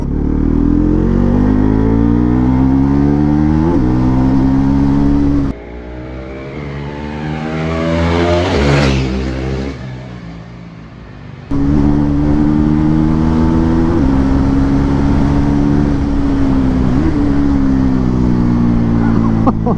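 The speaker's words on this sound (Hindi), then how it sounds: "तो ये है मोटरसाइकिल अभी अपने पास NS 400Z 2025 का मॉडल, और देखते हैं कैसे चलती है।" A 2025 Bajaj Pulsar NS400Z motorcycle engine runs loud and close, with repeated revs rising and falling, a brief lull midway, then strong steady revving again.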